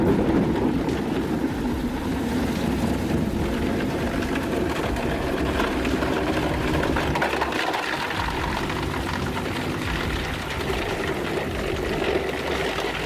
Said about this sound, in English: HDPE pipes look tough until the DGM 1500 rotor hits them